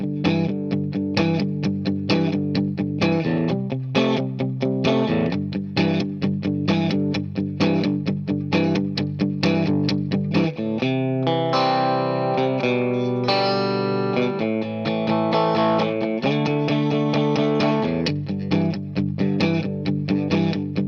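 A distorted electric guitar plays the chorus of a song with effects-laden tone, strummed chords and riffing lines running steadily and loud for about twenty seconds, with no talking.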